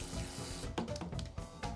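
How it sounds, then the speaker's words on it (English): Tap water runs into a sink as sweet rice is gently rinsed under it, with a steady flow broken by soft sloshing and rubbing of the grains, quiet and close, no voices. "Then gently rinse the rice under running water."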